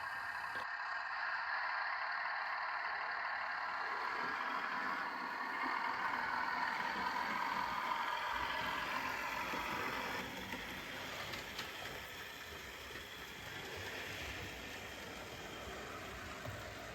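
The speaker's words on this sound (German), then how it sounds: "fahren die Züge mit Motorengeräusch aus dem erdachten Tunnelportal aus" A model railroad train's engine sound effect plays as a steady, quiet mechanical hum with a faint high whine, continuing evenly and easing slightly partway through, with no voices.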